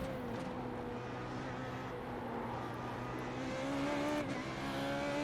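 A Formula 3.5 race car brakes hard and drops down through the gears into a corner, its engine note falling and rising with a steady droning whine, heard from a moderate distance.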